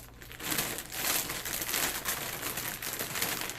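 Two shirts are pushed into a carry-on luggage bag, giving a continuous close crinkling and rustling of fabric and packing material in uneven bursts, with no talking.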